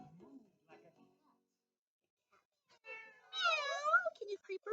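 A person makes a drawn-out meowing sound, imitating a cat, after a quieter bit of soft vocal sounds; clear and close.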